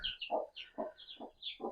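Four baby chicks give small, close, quick peeps and soft clucks in a rapid, uneven series, alternating high chirps with lower notes and no talking.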